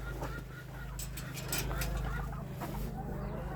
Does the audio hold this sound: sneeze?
no